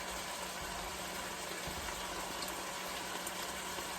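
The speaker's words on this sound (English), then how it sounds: "I'm adding some Worcestershire sauce." Worcestershire sauce pours onto sliced mushrooms, peppers and onions, a steady close liquid hiss and sizzle that runs without pause and with no talking.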